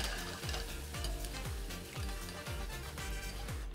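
Eggs fry in a pan of hot oil while the cook spoons the oil over their tops, making a steady close sizzle with a rhythmic series of soft scraping and ladling strokes about every half second.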